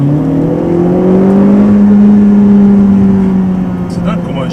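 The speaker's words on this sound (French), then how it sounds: "Le bruit qu'elle fait quand elle rétrograde" A Renault Clio RS 18 engine blips and rises in pitch as it downshifts, a loud, close-up rev heard from inside the car, with people talking over it.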